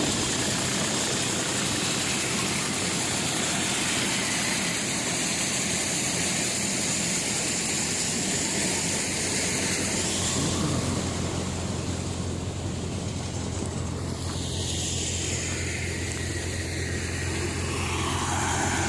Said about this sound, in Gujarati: આ ડોલર ચણા કાઢવાનું ચાલુ છે.